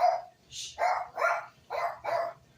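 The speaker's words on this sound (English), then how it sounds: "Oh, that dog's going crazy." A dog barks rapidly and loudly nearby, about six sharp barks in an agitated burst with short gaps in a quiet kitchen.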